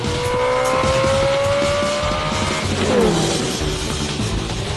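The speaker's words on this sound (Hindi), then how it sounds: "कार नंबर 2 ने जैक्सन टेलर की कार नंबर 8 को ओवरटेक कर लिया है।" Race cars roar past at speed during an overtake, loud sustained engine drone with rising and falling whines and a brief squeal near the middle, no voices.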